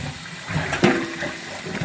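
Cold water runs steadily from a tap over cooked macaroni, giving a short, continuous splashing rush with a small gurgling burst midway.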